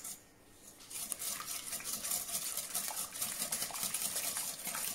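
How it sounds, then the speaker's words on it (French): A whisk beating eggs and sugar in a bowl sets up a fast, steady, scratchy metallic rhythm, close and moderately quiet, running continuously after a brief pause at the start. "on va fouetter pendant quelques minutes"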